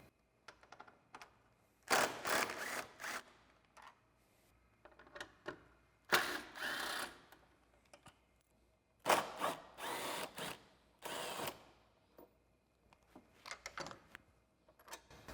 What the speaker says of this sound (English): I'm going to use a 10mm socket for the top and bottom 10mm screws